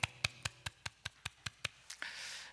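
Clapping at a Friday night church prayer meeting: about ten sharp, evenly spaced claps in a quick steady rhythm, fairly close and clear, giving way at the end to a soft wash of broadband noise.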